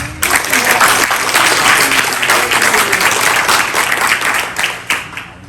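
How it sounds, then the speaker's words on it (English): Loud, dense applause from the crowd at a Guam Army National Guard battle handoff ceremony, a sustained roar of clapping that stays strong before easing slightly at the end. "Please give Staff Sergeant Herrera a round of applause."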